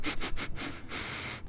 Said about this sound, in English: And sniffles.